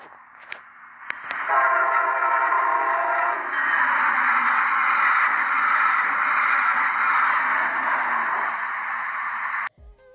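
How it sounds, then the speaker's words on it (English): A Brightline passenger train on Florida's railroad passes close by, its horn blaring in a long chord that swells loud and then gives way to a sustained roar of the train rushing past, ending abruptly. "That's the sound of Florida's Brightline Railroad."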